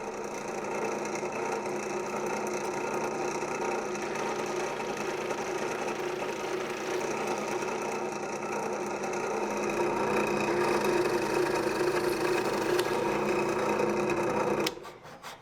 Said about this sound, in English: I'll drill the holes now before cutting everything apart.